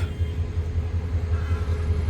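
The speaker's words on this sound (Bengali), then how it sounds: "উনত্রিশশো সিরিজের লোকোমোটিভ" A 2900 series locomotive hauls the Sagarika commuter train on the Chandpur–Chittagong line, its deep, steady engine rumble close and continuous with a faint pulsing throb.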